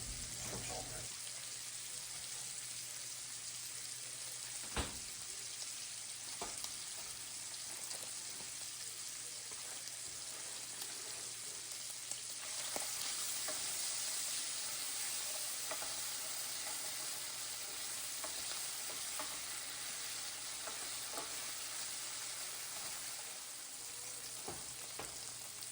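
Sausages browning in a pan give off a faint, steady sizzle for a long stretch, with occasional sharp clicks and taps as they are stirred and turned.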